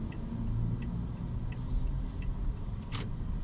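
A 2018 Toyota Yaris Ativ 1.2 G turn signal ticks faintly at a steady, even rhythm inside the cabin during a left turn, over a constant low engine and road hum.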